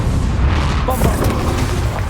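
Bombarda spell explosion in the video game Hogwarts Legacy, a short, loud, deep boom with rumbling burst effects filling the moment.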